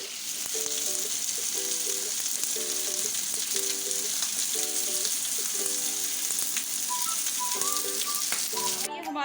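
Mutton chops fry in a hot pan with a dense, continuous sizzle that stays loud and steady throughout, broken by faint rhythmic stirring or scraping tones.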